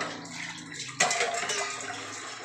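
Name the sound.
water poured into cooking pot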